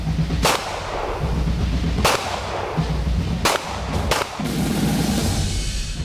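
Soldiers at shooting practice fire pistols, rifles and machine guns: four or five sharp, loud reports spaced a second or so apart over a steady outdoor rumble, with no talk.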